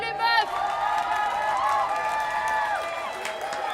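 A crowd of women cheers, whoops and claps loudly and continuously, with shrill overlapping voices and a burst of applause at the start.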